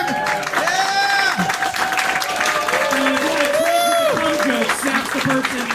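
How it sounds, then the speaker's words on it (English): An audience at a live comedy podcast show applauds and cheers for the host's mother, sustained clapping and whoops mixed with overlapping voices and laughter throughout. "give her an applause"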